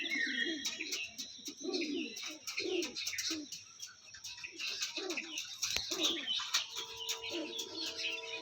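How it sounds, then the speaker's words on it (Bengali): Pigeons coo in repeated low, throaty phrases, close by, with scattered chirps and a few sharp clicks in between; the bird is a male Andhra Kalsira pigeon. "এটা আন্ধ্রা কালসিরা পায়রা আছে"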